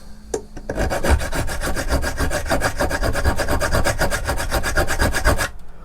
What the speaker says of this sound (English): The diamond file does a good job and a pretty quick job of getting through that.